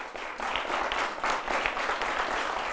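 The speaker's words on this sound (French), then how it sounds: "Merci de les applaudir très fort." An arena audience at a final claps continuously in a moderately loud, textured wash of applause with gentle swells, no voices on top.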